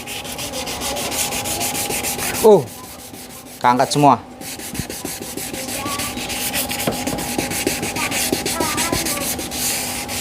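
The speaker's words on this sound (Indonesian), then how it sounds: "Ini kita menggunakan amplas 400." Steady rough rubbing of 400-grit sandpaper on a yellowed plastic car headlight, continuous and close, with a few short spoken words in between.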